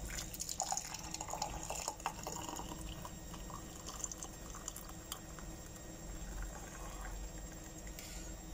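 Zobo tea, a hibiscus drink, is strained through a sieve in a kitchen, giving a faint, continuous trickle and patter of liquid with scattered small clinks and drips.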